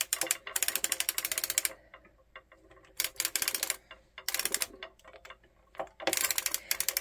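Hand-cranked circular sock knitting machine turning in bursts, rapid rhythmic clicking and ratcheting mechanical ticks with short pauses between cranking runs, close and fairly quiet.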